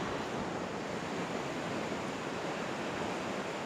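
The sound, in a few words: waves at a peaceful beach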